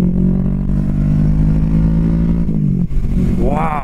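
Kawasaki Vulcan S 650 cruiser motorcycle engine pulling hard under acceleration, a loud steady drone that rises in pitch toward the end, close up, with a brief exclamation from a rider over it.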